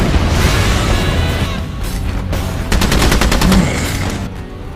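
A sci-fi gun fires in a film scene, loud rapid bursts rattling almost continuously like machine-gun fire across the whole stretch, with no talking.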